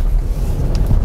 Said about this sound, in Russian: такое ветруганище у нас. Он как бы продолжает дуть дальше.